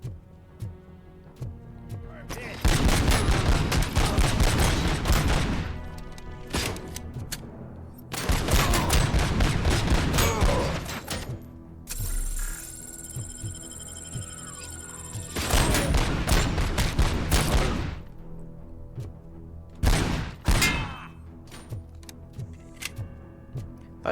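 Gunfire in RoboCop: Rogue City, with long bursts of rapid shots in four loud clusters separated by quieter pauses, close and dense, plus a short final burst.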